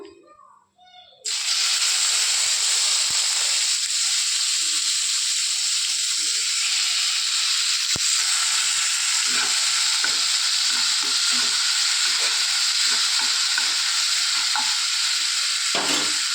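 Tomatoes land in a hot pan for a ridge gourd curry with onions already frying, and a sudden loud sizzle bursts out and holds as a strong, steady hiss, with faint soft knocks of stirring underneath.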